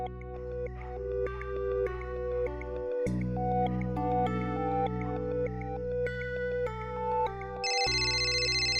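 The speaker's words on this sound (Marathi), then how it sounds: "रिंग वाजते पण उचलत नाहीये" A phone rings continuously with a repeating electronic melody, steady and fairly loud, with no one speaking.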